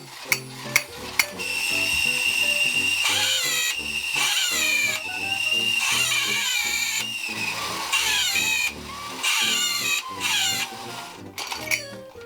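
A musical jolly chimp wind-up toy running, its clockwork whirring and clattering in rapid rhythmic bursts with bright metallic tones, close and fairly loud, with a few sharp clicks at the start and end.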